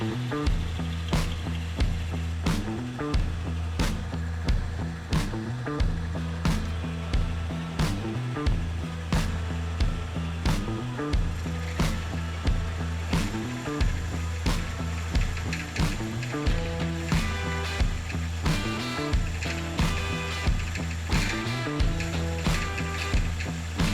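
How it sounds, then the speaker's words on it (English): Cutter grinding through vintage brakes under repair, a loud, close mechanical ratcheting that repeats in a steady cycle roughly every second and a half for the whole stretch, with no talk. "with this cutter not being quite long enough, it's not making it easy to do."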